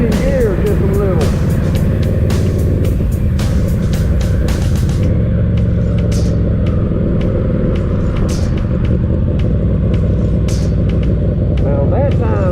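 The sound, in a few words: Yamaha V-Max motorcycle riding while shifting gears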